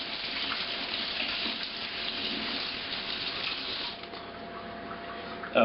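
Water from a kitchen tap runs steadily into a sink to rinse a measuring spoon during home dinner cooking, a soft continuous hiss heard close by with no talk.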